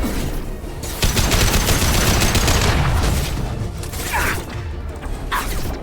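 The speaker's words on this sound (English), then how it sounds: "Firing a high impact shot." High-impact weapon shots are fired in Mass Effect 2: loud, dense bursts of gunfire crowd close together with mechanical clatter, continuing for several seconds without speech.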